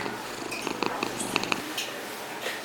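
A cat purrs softly up close in a cat café, with faint light taps and a brief voice at the very end.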